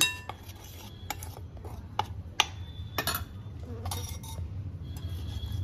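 Batter for cheese balls being mixed in a bowl as water is added little by little, with sharp clinks of a utensil against the bowl and softer stirring in between, and no speech.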